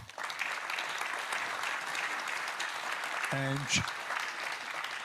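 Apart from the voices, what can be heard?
audience applause for Professor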